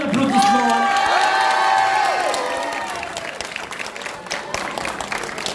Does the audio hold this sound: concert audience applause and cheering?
yes